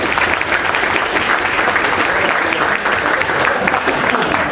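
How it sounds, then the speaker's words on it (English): Audience at a tech event breaks into steady, dense applause, loud and continuous throughout with no break in the clapping. "We should all give a big round of applause to Mikhail Brandon and."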